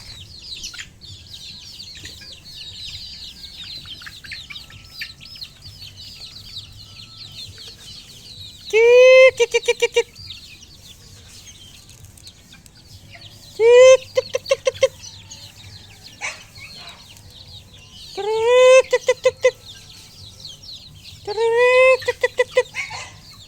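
Incubator-hatched chickens about two months old, kept in the countryside, give four loud, close bursts of rapid clucking calls. Quieter rustling and faint chirps fill the gaps between them.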